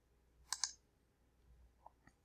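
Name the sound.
computer mouse click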